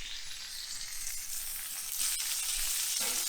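Food sizzles in hot oil in a pan while a crust forms, giving a steady bright hiss with small crackles and pops. It comes from close by, carries on without talk and swells slightly partway through.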